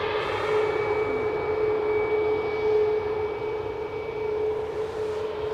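Virgin airliner named Soul Rebel passing at Edinburgh airport, a steady engine roar with a strong sustained whine, loud and continuous for several seconds with no talk over it.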